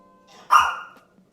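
One sharp, nearby bark from a pet dog indoors, clear and alone in a quiet room.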